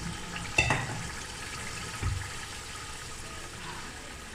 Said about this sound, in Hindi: अब हम इसके अंदर पानी ऐड करेंगे। ये मैं चनों वाला पानी डाल रही हूँ।